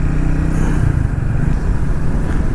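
Triumph Speed 400 motorcycle loaded with luggage, riding along with a steady, loud engine drone and rumbling wind noise close up, no clear revs, continuous throughout.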